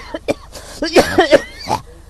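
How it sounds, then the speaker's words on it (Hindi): Someone coughs several times in a rough, throaty burst, close and loud, with a bit of throat clearing between the harsher coughs. "ये खांसी फिर हो गई"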